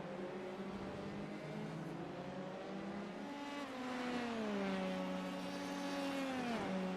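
An F3 single-seater in a racing video game at the British Grand Prix circuit revs with a loud, steady engine whine that climbs and shifts pitch through gear changes.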